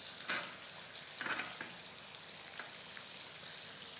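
A beef steak sears in a hot pan over a high flame, a steady soft sizzle with a few louder crackling bursts early on, close and continuous with no talking.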